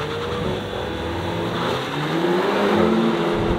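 A Toyota Corolla GR with all-wheel drive, a Honda Civic, a Hyundai i30N and a Leon launch together in a drag race, their engines roaring loud and close and swelling as they pull away.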